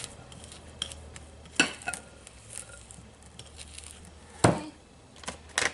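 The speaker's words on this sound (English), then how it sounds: "I'm just going to keep scraping here" A spatula scrapes chocolate chip cookie dough from a bowl, quiet rubbing with a few sharp scrapes and knocks against the bowl spaced a couple of seconds apart.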